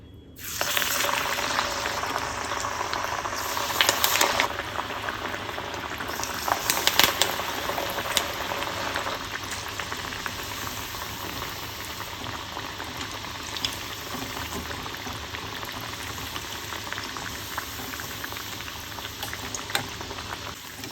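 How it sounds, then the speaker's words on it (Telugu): Masala vada deep-frying in hot oil give a steady, dense sizzle and bubbling that lasts throughout, close and moderately loud, with occasional louder crackles and spatters. "ఇంక ఇప్పుడు వీటిని ఫ్రై చేసుకుందాం"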